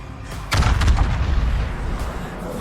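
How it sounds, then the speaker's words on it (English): Heavy naval gun salvo fired at the Bismarck in World of Warships, a loud booming broadside that erupts suddenly and rumbles on, followed by a second fainter blast. "Okay, we're going to fire on the Bismarck."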